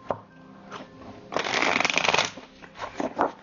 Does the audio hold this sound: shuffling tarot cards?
yes